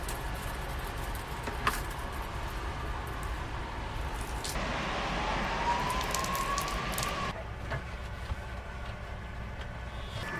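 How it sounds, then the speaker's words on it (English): Steady rain drums on a camper van parked in the south of Spain with its side door open, a dense continuous hiss and patter that swells slightly midway, with no voices. "the rain's kind of going like that way"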